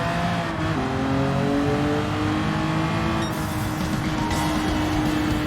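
A race car in Gran Turismo 7 accelerates hard out of a corner over the apex curb, the engine note climbing steadily through the gears, loud and close and continuous, with no talking.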